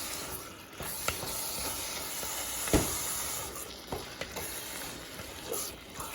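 Black beans and kidney beans are stirred in a pot for taco soup, giving soft scraping and clinking of a spoon against the pot over a steady background hiss, with a few sharper knocks.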